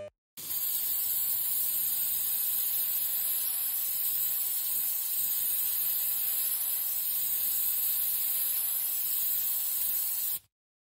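A long continuous spray hiss, steady and fairly loud, running without a break for about ten seconds before cutting off abruptly.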